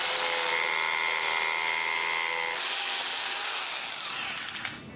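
A Bosch GBH2-20D SDS plus hammer drill bores with a 10mm bit, a loud continuous high whine with a rattling hammer texture that shifts pitch partway and tapers off at the end, with no one speaking.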